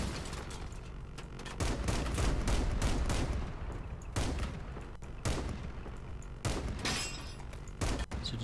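Dense, continuous machine-gun fire in the vehicle-combat video game Crossout, with heavy impacts and damage as a wheel is shot off; loud, sustained bursts with brief gaps and sharp cracks.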